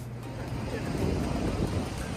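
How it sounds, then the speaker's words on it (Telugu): Strong wind in Chicago buffets the microphone with a steady, loud, low rumbling roar that surges slightly midway. "విండ్ అయితే మమ్మల్ని తోసేస్తుంది, అంత ఎక్కువ ఫోర్స్తో వస్తుంది."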